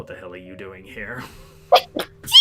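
A single sharp sneeze bursts out close and loud right after someone speaks, followed by a second quick outburst at the end.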